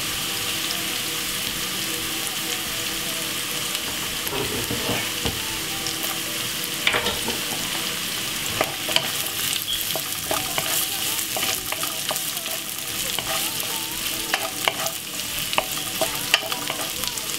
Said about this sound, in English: first, fry off the carrot for about roughly about five minutes.